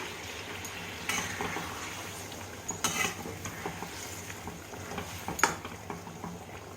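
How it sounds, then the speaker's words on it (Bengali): Katla fish simmering with mango kasundi after a little hot water is poured in, giving a steady soft bubbling and sizzling with occasional stirring and pan clinks, close and moderately quiet. "সামান্য গরম জল দিয়ে মাছগুলোকে ফোটাবো"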